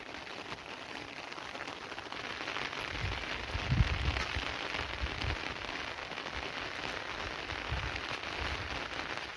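Steady heavy monsoon rain pours over farm fields and rain-laden trees after eight days of downpour, a dense continuous hiss with a few low thuds, no talking.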